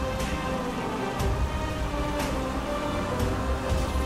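Steady rain falls in the GTA 5 game world, a continuous dense patter with a few sharper drop hits, no voices over it.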